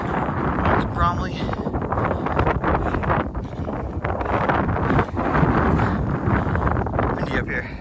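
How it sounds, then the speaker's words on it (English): Strong wind buffets the microphone on an exposed mountain summit along the Appalachian Trail in Vermont, a steady, loud roar that fills the whole stretch with little letup, while a person speaks over it. "Windy up here."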